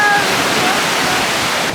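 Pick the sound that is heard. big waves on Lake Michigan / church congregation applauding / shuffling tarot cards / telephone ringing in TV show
big waves on Lake Michigan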